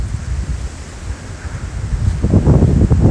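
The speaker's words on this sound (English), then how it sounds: "the wind's starting to pick up" Wind picks up outdoors on a cold North Wales hike, a steady low rushing roar buffeting the microphone, growing gustier and louder toward the end, with no voices.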